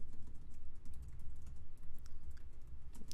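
Keys clack quickly on a computer keyboard in uneven bursts of typing, close and fairly quiet against a low background hum, with nobody speaking.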